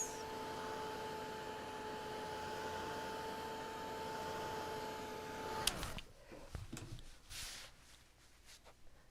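A blow dryer whirs steadily while drying paint on a painting for about six seconds, then clicks off, leaving quiet handling noises.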